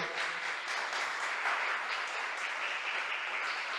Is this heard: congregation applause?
yes